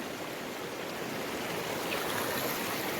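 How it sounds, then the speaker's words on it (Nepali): A swollen hill river, risen high after rain, rushes past in a steady broadband roar that stays even and unbroken, with no one speaking. "हेर्नुहोस् खोला बढेर चाहिँ"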